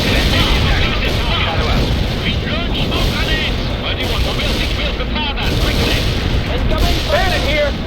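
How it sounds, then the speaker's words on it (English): Airstrike explosions in the World in Conflict video game, heard as a continuous heavy rumble of blasts and battle noise under a radio voice talking throughout. "The airstrike is on the way."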